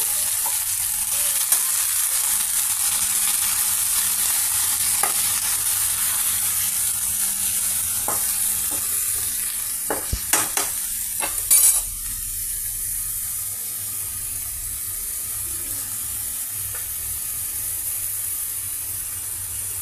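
Amaranth leaves (totakura) sizzle steadily in a hot pan for about twenty seconds, with a few louder scraping stirs near the middle and a continuous frying hiss throughout; no one speaks.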